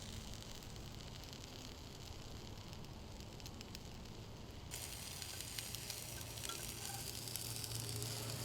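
Pork and apple and traditional Lancashire sausages sizzle over a campfire on an autumn wild camp in Norfolk, a steady soft crackle and hiss that grows slightly louder midway, with no talk over it.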